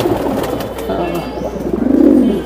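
Large silver pigeons at a pigeon sale coo in a low, throaty rumble that swells near the end, close by over a busy background.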